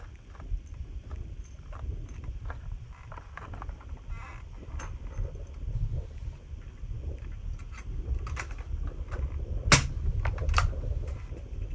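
A suppressed 300 Blackout rifle fires Gemtech ammunition, giving one sharp, muffled crack near the end amid scattered small clicks and handling noise outdoors.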